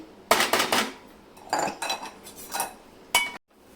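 Metal utensils clink and scrape as cooked puran (chana dal filling) is transferred into a vessel in a home kitchen, in three or four close, bright bursts with no talking.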